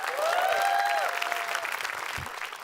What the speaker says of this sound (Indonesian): Tepuk tangan buat stand up comedy Indonesia